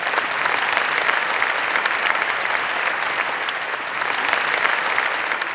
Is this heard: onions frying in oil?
no